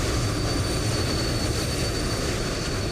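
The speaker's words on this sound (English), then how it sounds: "It's one of the noisiest turboprops made." Loud, steady drone of a noisy turboprop aircraft engine in Microsoft Flight Simulator 2020 at Frankfurt airport, a constant broadband roar with a faint high whine and no talking.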